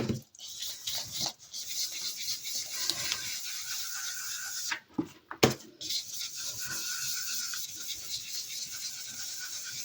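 Paint brushed onto a surface by hand, soft dry scratching and rubbing strokes in irregular bursts, close and fairly quiet, with a few sharper scrapes midway.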